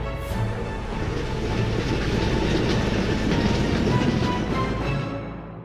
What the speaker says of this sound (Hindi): तभी ट्रेन चंपकला स्टेशन पर आकर खड़ी हो जाती है